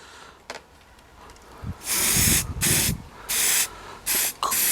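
Spray paint hisses onto a rusty garden incinerator bin in four loud close bursts of a few seconds each, separated by short gaps over quiet background noise.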